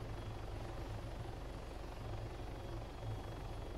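A helicopter drones steadily with a low, pulsing rotor thump and a constant engine whine, continuous and even throughout at moderate loudness, with no voices.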